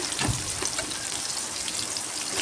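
Cubed eggplant and potato sautéing in a pan with tomato for a home-style poriyal, giving a soft, steady crackle and hiss with a few small pops, close and fairly quiet, no voices.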